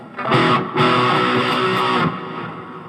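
A distorted electric guitar plays a chord from a song, ringing out, briefly choked then struck again and held with pinky hammer-on notes added, before cutting off and fading.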